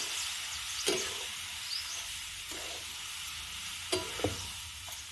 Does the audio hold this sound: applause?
no